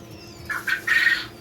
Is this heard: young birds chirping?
yes